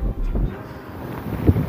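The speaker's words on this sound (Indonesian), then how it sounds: "Anginnya kencang sekali ya pemirsa." Strong wind gusts across an open area near a stadium and salt fields, heard as a brief, low buffeting rumble of wind against the microphone.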